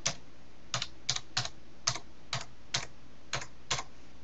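A password is typed on a computer keyboard in sparse, separate key taps, about a dozen crisp clicks at an uneven pace, close and fairly quiet with no talking.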